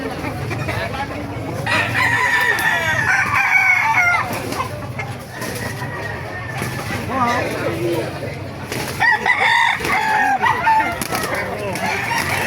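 Roosters at a chicken market in Baliuag, Bulacan crow repeatedly and loudly alongside clucking hens, several birds overlapping close by while people talk.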